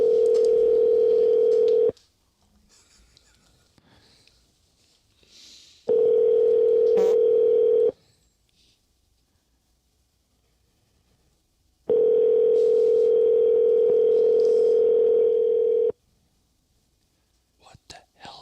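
A telephone call rings unanswered, its ringback tone sounding in three long, loud bursts separated by gaps of near silence, with faint whispering between the rings.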